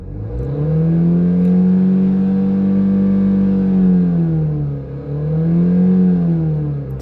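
Car engine held at steady revs, its note drifting up and down in smooth swells as the throttle is eased and pressed, loud and close with no voices.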